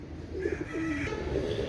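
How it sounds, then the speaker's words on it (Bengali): A pair of Chinese pigeons cooing close by, soft low throaty coos rising and falling in a couple of phrases over faint background noise. "একজোড়া চীনা কবুতর মাশাআল্লাহ"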